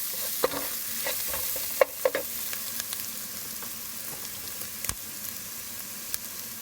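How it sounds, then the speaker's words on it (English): Onions and turmeric powder fry in hot oil in a home kitchen, a steady close sizzle broken by scattered sharp scrapes and clicks of a stirring spoon against the pan. "I'll let the turmeric cook in the oil along with the onions and the other ingredients."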